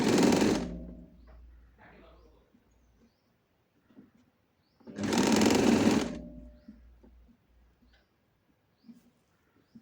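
A sewing machine stitches a fabric sleeve in two loud, steady bursts of about a second each, separated by quieter handling noises and near-silence.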